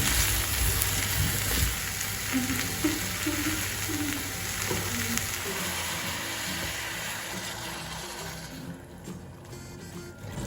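Steady sizzling and crackling of onions and mushrooms frying in a soup pot, a dense hiss continuing throughout, with faint clinks near the end.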